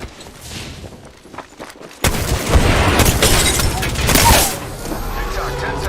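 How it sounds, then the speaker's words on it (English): A frag grenade goes off in a multiplayer shooter game, a sudden loud blast that jumps up after two seconds of quieter game noise and rolls on as sustained heavy rumble with gunfire-like crackle, under players' voice chat. "Frag out!"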